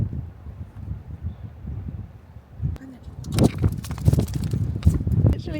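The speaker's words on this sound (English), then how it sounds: "It's literally so windy and cold." Strong wind blusters outdoors on a cold day, steady low rumble with heavier gusts and buffeting toward the end, under occasional talk.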